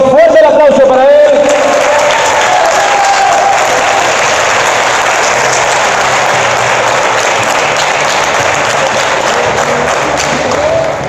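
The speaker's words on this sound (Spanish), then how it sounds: "fuerte el aplauso para él." A crowd applauds boxer Aitor Nieto at the ROAD 2 GLORY III weigh-in, a loud, dense wash of clapping and cheering sustained for about eleven seconds, with a voice briefly heard at the start.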